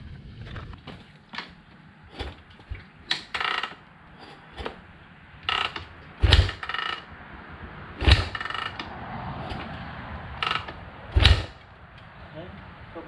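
An RMZ 250 dirt bike gets kick-started several times, each kick a sharp mechanical clunk and ratcheting rattle at irregular intervals, with the engine not catching and some talk between kicks.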